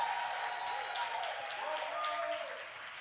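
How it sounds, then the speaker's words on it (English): A church congregation at Trinity Baptist claps and cheers in a faint, continuous wash of applause, with raised voices and shouts mixed into the crowd noise. "Y'all clap and scream a little louder than that."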